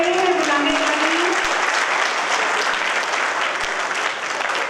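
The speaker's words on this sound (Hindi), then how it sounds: "आप लोगों की तालियों में कमी नहीं आनी चाहिए" Steady, dense audience applause at a Hindi poetry gathering (kavi sammelan), a full crowd clapping continuously at close range throughout.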